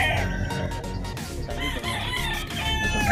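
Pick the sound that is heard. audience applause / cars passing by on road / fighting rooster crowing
fighting rooster crowing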